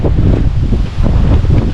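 Strong typhoon wind outside a dorm in Taiwan buffets the microphone in a continuous low roar, loud and gusty throughout with no voices.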